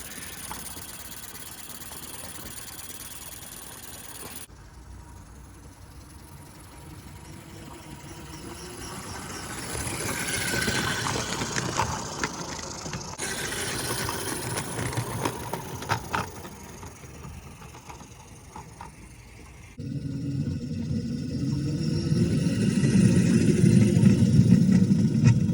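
A Mamod Brunel live steam model locomotive runs around its track, giving a continuous chuffing, rattling mechanical sound that shifts in tone and grows louder near the end.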